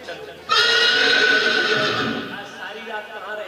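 A horse neighs loudly in a long, bright whinny that fades over a couple of seconds, used as a sound effect during a spoken Hindi devotional story, with a voice talking around it.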